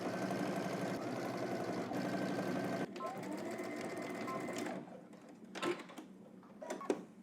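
Sewing machine stitching a 5/8-inch seam on a jacket, a steady close mechanical whir for about five seconds that then stops, followed by a few faint clicks and handling sounds.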